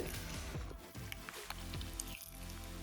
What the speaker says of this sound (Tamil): நான் இதை கையில் தான் தேய்க்கிறேன், கலக்கிறேன்.